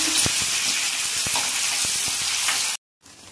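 Curry leaves dropped into hot oil for a masoor dal and potato amti, a loud, close, continuous sizzle with faint stirring taps that cuts off abruptly near the end.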